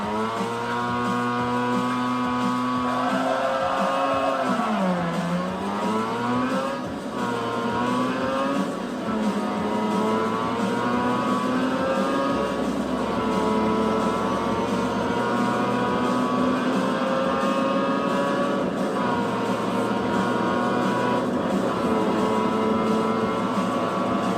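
Race cars in the video game Need for Speed Shift, played on an LG G-Slate tablet, with continuous loud engine drone, rising and falling revs and gear shifts throughout, no talking.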